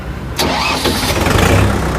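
A Kubota MU4501 4WD diesel tractor engine is started with a key. A sharp cranking catch quickly gives way to a loud, close, steady diesel idle rumble that carries on without any voices.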